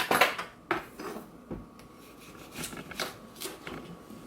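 A handheld peeler scrapes along a cucumber in a series of quick, close, rasping strokes with short gaps between them.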